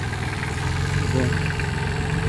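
A Solis 26 mini tractor engine runs at a steady idle close by, a low, even chugging drone with slight vibration throughout.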